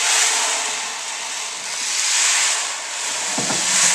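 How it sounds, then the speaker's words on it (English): Distant ocean waves washing on a shoreline, played as a sound effect in an audio theatre performance: a steady broad hiss that swells and recedes gently, with a brief low thump near the end. "the sound of the distant ocean waves on the"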